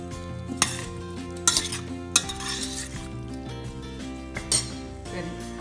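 Paneer and spices are stirred in a metal pan, with several sharp clinks and scrapes of the spoon against the pan over a low background sizzle.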